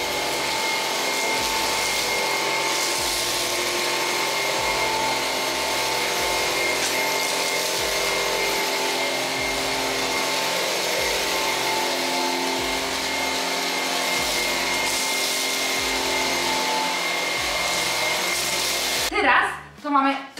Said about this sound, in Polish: nic nie wydostaje się poza odkurzaczem, tylko wszystko jest od razu zasysane do środka